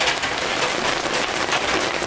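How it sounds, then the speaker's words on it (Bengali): Rain drums hard on a tin roof close overhead, a loud, even, metallic patter that continues without a break and has no voices over it. "টিনের চালের বৃষ্টি শব্দ শোনেন"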